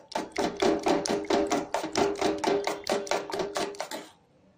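Two eggs are beaten briskly in a bowl for an omelette, making a quick, even run of about a dozen close clacking strokes that stop abruptly into quiet.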